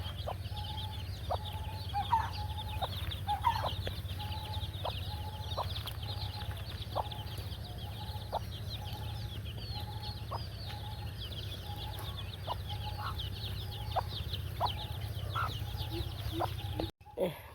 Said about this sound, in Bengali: মুরগি ছেড়ে দিছে, কুয়াশার মধ্যে খেয়ে আনছে পোকা মাকড়।